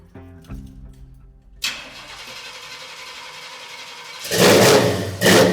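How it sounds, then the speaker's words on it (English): A 1973 Chevrolet C10 truck engine, miked at the exhaust, cranks on a cold start, catches and settles into a loud, close idle, then revs up hard twice near the end. "A cold start on this 1973 C10."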